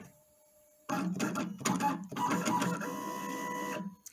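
A Great Cut vinyl cutting plotter runs a cut test, its motor whirring and carriage clattering in quick bursts that settle into a steady mechanical hum before stopping.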